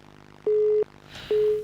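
Telephone busy signal on a radio call-in line: two steady, loud tone bursts separated by a short gap, over a low background hum.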